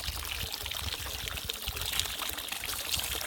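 Water spilling evenly over the leveled, sealed edges of a pond or basin: a continuous broadband pouring and splashing wash, steady and close, with no voices.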